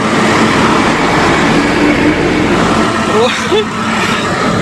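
A vehicle rolls past very close on a restricted road on the plain of Arafat during Hajj, a loud, steady broadband engine and tyre rush that swells briefly, with crowd voices murmuring beneath it.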